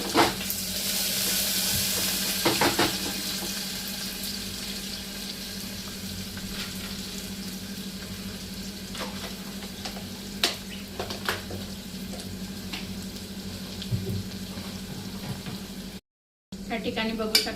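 Chopped onion sizzles steadily in hot oil with whole spices (bay leaf, stone flower, cloves, cardamom and cumin) for a home-cooked curry, a constant close frying hiss broken by occasional spoon scrapes and clinks.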